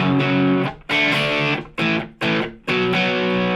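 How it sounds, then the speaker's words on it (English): Electric guitar, a single-coil Stratocaster through an amp with mild overdrive, plays a few ringing chords and notes, each sustaining before a short break, crunchy but not heavily distorted. "Just guitar to the amp with a little bit of gain."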